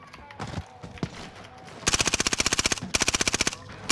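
Rapid automatic gunfire in Call of Duty: Modern Warfare, two close, loud sustained bursts of evenly spaced shots after a few scattered earlier shots, with brief game chatter around them.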